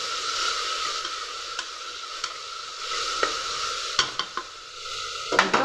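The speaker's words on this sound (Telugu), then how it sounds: "కొద్దిగా సాల్ట్, కొద్దిగా అల్లం వెల్లుల్లి పేస్ట్ వేసుకొని బాగా కలుపుకోవాలి." Salt and ginger garlic paste are stirred in a pan over a steady sizzle, with repeated spoon scrapes and taps against the pan, growing busier toward the end.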